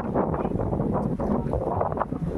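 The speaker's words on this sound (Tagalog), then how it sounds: "Kusog kay hangin dire" Strong outdoor wind buffets the microphone in rough, uneven gusts, loud and continuous for the whole moment.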